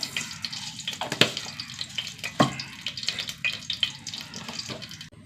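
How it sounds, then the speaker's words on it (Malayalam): Mustard seeds in hot coconut oil spluttering and popping for a Kerala chickpea curry, with crackling sizzle and sharp irregular pops close up, heard without any talking. "വെളിച്ചെണ്ണ ചൂടാവട്ടെ. കുറച്ച് കടുകിട്ട് കൊടുക്കാം."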